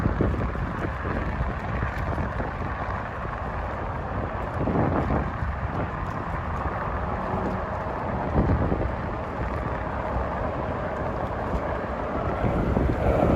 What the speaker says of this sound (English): Really windy here.